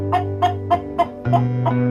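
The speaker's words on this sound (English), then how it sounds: "Hen and chicken." Hen and chicks clucking in a short run of about six sharp, evenly spaced clucks, close and clear over a steady background tone.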